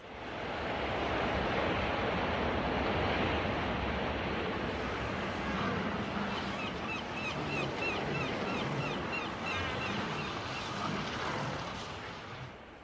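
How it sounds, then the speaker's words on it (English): North wind blows across the Arctic as a steady, broad rushing roar with gusty swells, continuous throughout and fairly faint overall. "Eventually, the north wind brings snow."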